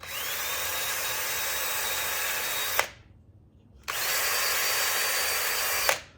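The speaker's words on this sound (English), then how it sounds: "Now I'll just carefully drill this out." A power drill whirs steadily in two long runs drilling out a car trunk side panel, each cutting off abruptly, with a short quiet pause between them.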